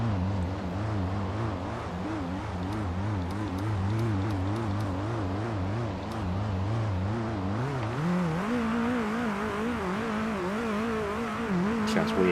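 A race car engine in the PMR sim racing game revs and drones steadily, wavering in pitch, then climbs higher partway through, heard at moderate level with no talk.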